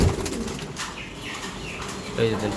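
Racing pigeons at a breeder's loft give soft coos and a brief flutter of wings, heard close under a noisy background with people talking nearby.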